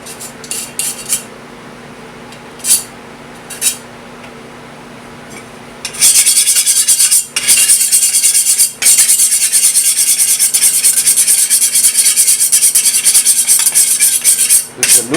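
A roller presses and rolls over an air-dry clay cover dusted with a little sand, giving a steady loud gritty rasping that starts abruptly after a quiet stretch with a few scrapes, then runs almost continuously with brief breaks.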